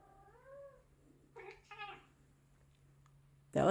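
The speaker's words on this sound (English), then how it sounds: "That was an actual meow." A cat gives a short rising meow, followed by a couple of brief soft chirping calls, close and quiet, before a sudden loud rustling burst at the end.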